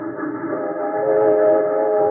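Trains rumble past a railroad yard as a radio drama effect, a steady, loud low drone with a sustained horn-like tone swelling slightly midway, with no voices.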